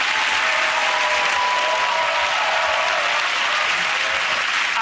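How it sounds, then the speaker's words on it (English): Dense, sustained applause from a studio audience at a British comedy panel show fills the room, loud and steady from start to finish. "here's that round of applause for Ed Hewitt-Milton."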